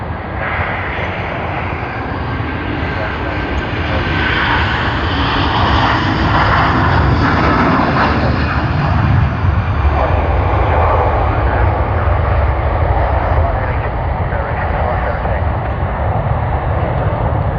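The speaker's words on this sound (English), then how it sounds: "Let one of the Qantas aircraft just pass by in front of us" A Qantas airliner taxis past at Sydney Airport, its engines giving a loud, steady roar that fills the whole stretch without pause and swells slightly midway.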